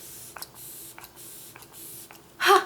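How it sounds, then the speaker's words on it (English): Flower Beauty Seal the Deal Long Lasting Setting Spray, matte version, is misted toward the face: four short, soft spritzes at even intervals, then a longer, louder hiss at the end, close and otherwise quiet. "I like to use the Flower Beauty Seal the Deal Long Lasting Setting Spray."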